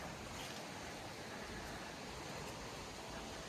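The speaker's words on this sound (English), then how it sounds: "Ah, the river for swimming," A river for swimming runs through a tropical food forest, its water giving a steady, unbroken broadband rush that stays even and fairly close for the whole stretch, with no voices over it.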